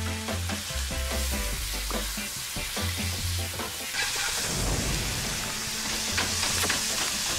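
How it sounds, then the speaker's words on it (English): Bacon fries in a pan, a continuous close, loud sizzle and crackle with stirring scrapes, rising into a denser spatter in the second half, no talking. "Bacon going on there."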